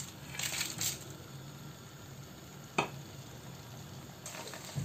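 Whole spices with garlic — dried chili, bay leaf, cardamom and cinnamon — stirred in a hot pan for a meat korma, giving a soft steady sizzle broken by a few sharp clinks of a spoon against the pan.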